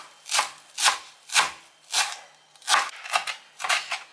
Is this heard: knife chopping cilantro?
yes